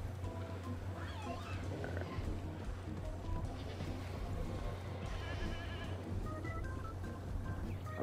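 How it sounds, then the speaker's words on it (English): Goats bleating faintly in the dinosaur park game Jurassic World Evolution 2, a few scattered bleats over a constant low game ambience and hum. "There's a bunch of goats running"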